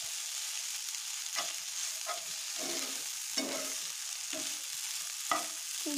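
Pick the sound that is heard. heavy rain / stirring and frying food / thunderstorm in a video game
stirring and frying food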